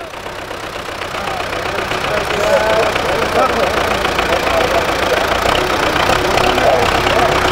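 A tractor engine runs continuously with a steady, knocking mid-range rumble that swells slightly louder after the first couple of seconds and then holds, close and dominant.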